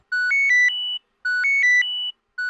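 A phone ringtone plays a short electronic melody, repeating in two identical bursts with a pause between, and a third starting at the end.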